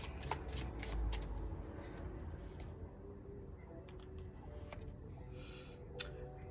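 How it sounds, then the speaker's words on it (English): Tarot cards are shuffled and drawn close up, giving soft riffling and flicking sounds with a sharp tap near the end, quiet and with no talking. "Let's pull a card for you, Taurus risings."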